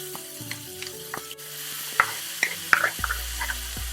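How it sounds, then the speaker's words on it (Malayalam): Chopped onion, ginger and garlic hit hot oil with spices in a pan for a bright, close sizzle, with scattered pops, crackles and light stirring scrapes over a few seconds. "നമ്മൾ അരിഞ്ഞ് വെച്ചിരിക്കുന്ന ഉള്ളി, ഇഞ്ചി വെളുത്തുള്ളി അതും ചേർക്കാം"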